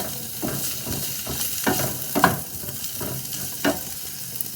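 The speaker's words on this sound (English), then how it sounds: "So now I'm going to give it all a good toss." Carrots and peppers tossed with chicken in a hot stir-fry pan give a steady close sizzle, broken by several sharper scraping, clattering bursts as the food is turned.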